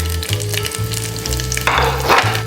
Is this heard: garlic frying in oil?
yes